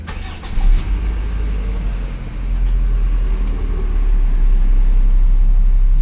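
A car engine cranks and catches, then settles into a steady running idle that grows slightly louder toward the end, with no voices over it.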